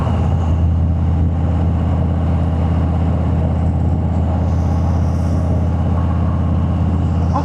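A Harley Davidson Fat Boy motorcycle riding through town: a loud, steady engine rumble throughout with heavy wind buffeting and road noise and no pauses.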